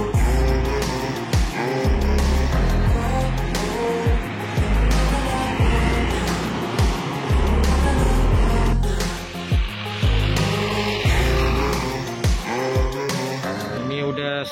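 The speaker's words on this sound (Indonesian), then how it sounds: "kalau udah ketemu sama tol, tanjakan gasnya langsung full ya." Bus accelerating hard at full throttle at a toll road entrance in Aceh, a loud roaring engine with repeated gear-change dips and rising revs, close by, with some voices mixed in.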